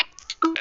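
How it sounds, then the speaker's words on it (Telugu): A phone's Telugu keyboard gives a short tick when send is pressed, one of several quick clicks and taps heard close up with no talking. "టిక్ అని సౌండ్ వచ్చింది కదా, అట్లా కూడా మీ సౌండ్ పెట్టుకోవచ్చు."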